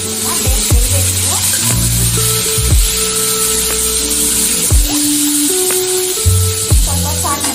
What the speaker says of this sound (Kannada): ಉಳ್ಳಾಗಡ್ಡೆ, ಹಸಿಮೆಣಸಿನಕಾಯಿ, ಟೊಮೆಟೊ 3 ಹಾಕಿ ಸ್ವಲ್ಪ ಬೆಂದಿರಬೇಕು